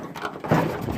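A door on a rat rod bogger buggy opens or shuts with one solid clunk midway, heard close against steady broadband background noise.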